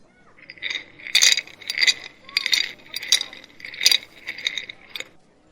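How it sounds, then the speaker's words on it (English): Candy clinks against a glass jar in a 1950s-style candy shop: bright, irregular taps and jingles come in clusters, close and crisp, with soft sounds of handling between them and no voices heard. "Soft clink, clink. Candy against glass."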